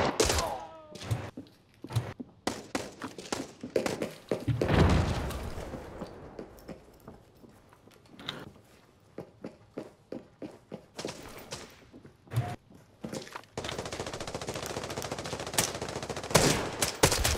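Bursts of automatic gunfire in the shooter game Arena Breakout: Infinite, rapid rattling volleys separated by pauses, with scattered footsteps and thuds, some shots close and loud, others quieter.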